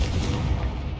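Confringo fire spell blast in the Hogwarts Legacy video game, a dense, loud, rumbling burst that fills the whole second without a break and sounds close, with no voices over it.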